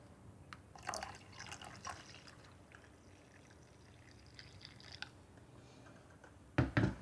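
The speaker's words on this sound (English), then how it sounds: "And finally, I'm gonna add the water." Water poured into a freshly made cup of latte-style coffee with thick milk, a quiet trickle and splash with small drips, ending in a louder burst of pouring near the close.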